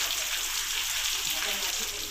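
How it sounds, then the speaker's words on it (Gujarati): Rain falls as a steady, even hiss of dense drops, continuous and fairly loud throughout with no distinct individual sounds. "હિંમતપુર સહિતના વિસ્તારોમાં વરસાદ પડ્યો।"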